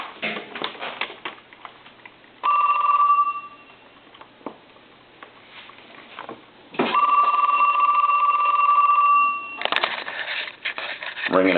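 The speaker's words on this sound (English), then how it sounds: "Ring it a couple of times." A wooden wall telephone's bell rings in two bursts, a short ring and then a longer sustained one, loud and close, with someone talking in the gaps between rings.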